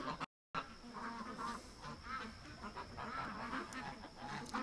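Faint ducks quack and honk from a distance in a loose, repeated chatter, with no voices.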